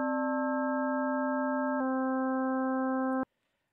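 A synthesizer in xenharmonic tuning holds a steady tone with a normal harmonic spectrum, evenly stacked overtones ringing for about three seconds with a brief change partway, then cutting off abruptly into silence.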